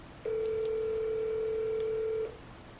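A phone on speakerphone placing a call gives a single steady ringback tone lasting about two seconds, clear and moderately loud over faint background noise.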